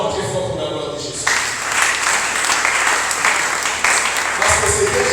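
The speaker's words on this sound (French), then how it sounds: "Acclamons très fort pour la gloire de Jésus." A church congregation applauding loudly, a dense sustained roar of clapping filling the room, with voices mixed into the applause.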